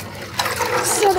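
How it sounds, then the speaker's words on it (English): Liquid pours into a container with a splashing, gushing fill sound that grows fuller toward the end, while people talk nearby. "I just need to pour this in there."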